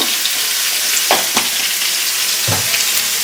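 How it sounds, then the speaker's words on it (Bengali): Ginger, cumin and green chili paste fries with salt and turmeric in hot oil, a loud continuous close sizzle with a few brief stirring scrapes and no talking. "দিয়ে দিলাম লবণ আর হলুদ তারপরে একটু ভেজে নেবো"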